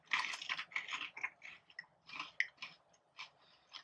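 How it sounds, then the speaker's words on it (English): Crunchy cheese curls being bitten and chewed up close, a rapid run of sharp, dry crunches with brief pauses between bites, fairly quiet with no talking. "Good crunch."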